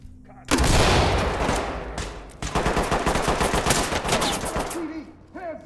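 Rapid bursts of gunfire from the tactical shooter Ready Or Not, a loud sustained volley followed by a second stretch of repeated shots, with a voice briefly heard near the end.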